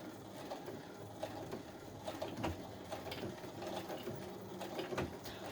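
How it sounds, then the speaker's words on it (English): A sewing machine with a 1/4 inch foot stitches zipper tabs, giving a faint, steady mechanical whir with light rhythmic ticking. It sounds close but quiet, with no talking. "I am just sewing zipper tabs on. And I'm using a 1/4 inch foot"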